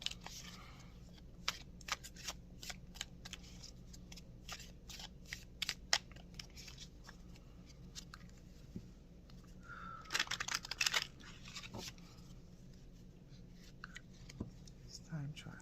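A deck of cards is handled, shuffled and cut in a quiet room, with scattered soft snaps and taps and a short, fuller riffle near the end, all faint.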